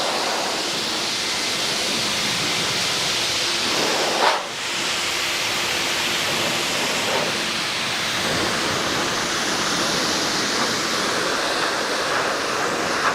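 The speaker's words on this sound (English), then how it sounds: "you can hear me turning on and off the faucet" Water runs from a bathtub faucet in a steady, close, hissing rush that continues throughout, broken by one brief knock partway through.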